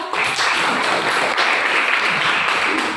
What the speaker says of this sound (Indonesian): Tepuk tangan untuk Arya.